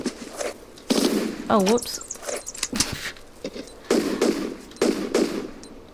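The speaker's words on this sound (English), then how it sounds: "How did three Uzi bullets not kill a bat?" In a Tomb Raider level editor game, Uzi fire at a bat comes as several short, sharp bursts spread over a few seconds, with a high squeaky chirp near the start and a voice talking between the shots.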